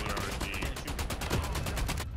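Rapid bursts of automatic gunfire from the Call of Duty Mobile battle royale mode crackle in a quick, even rhythm for about two seconds, fairly loud and close, before cutting off.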